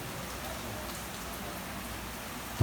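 Steady rain patters on a surface as a soft, even hiss throughout, ending in a short louder knock.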